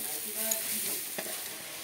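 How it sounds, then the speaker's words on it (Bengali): Spices frying in a pan make a soft, steady sizzle, while a utensil stirs and scrapes through them with light strokes. "দেখো বন্ধুরা, মশলা সব একসাথে দেওয়া হয়ে গেছে।"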